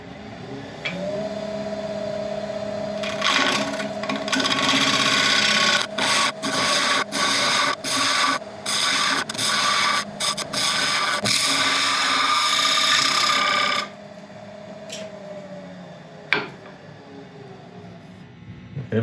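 A wood lathe faces off a black locust and soapstone resin turning. A steady motor hum runs throughout, with the tool cutting in choppy, interrupted bursts mid-clip before the cut eases off.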